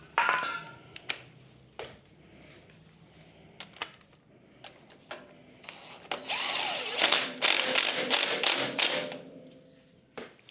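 Power tool tightening a nut on the tapered flywheel of an antique David Bradley walk-behind tractor, heard as a series of short sharp mechanical bursts, then a louder, denser stretch of rattling impacts near the end, with no talk.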